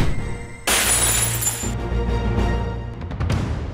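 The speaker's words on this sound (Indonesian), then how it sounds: "Kayak suara pecahan" A flower vase shatters indoors in a sudden, loud crash, followed by a spray of breaking pieces and scattered tinkling debris that fades over a few seconds.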